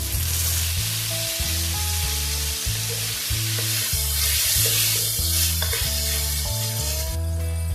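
Tomatoes hit a hot pan of onions, garlic and ginger, sparking a loud, steady sizzle with rhythmic stirring scrapes repeating about every second at close range, and no talk.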